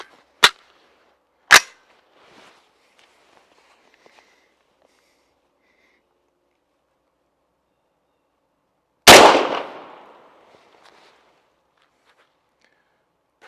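A .50 Beowulf rifle fires at a target seven yards away: three sharp, loud reports, the first two about a second apart and the third, heavier one after a long pause, each trailing off into quiet.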